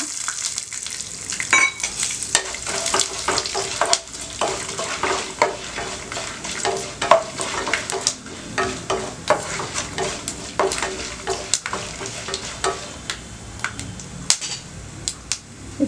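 Cashews, peanuts and sesame seeds fry in a pan for soya chunk poha upma, with a steady sizzle and frequent sharp clicks and scrapes from the stirring utensil against the pan. No one speaks.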